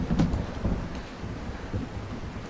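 Steady rain pours down with a low rumble of thunder underneath, a dense continuous wash with no pauses and no talking.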